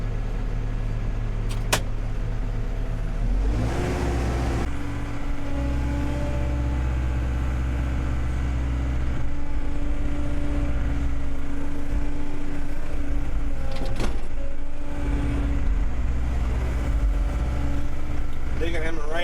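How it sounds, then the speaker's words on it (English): Skid steer working on a basement dig, its diesel engine droning loud and steady up close with revs swelling and easing as it digs dirt, a few sharp clanks mixed in, with people talking over it. "Digging him a ramp so I get over the skid steer. This thing is fast."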